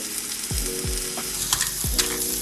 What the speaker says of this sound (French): on va d'abord les faire cuire à la poêle avant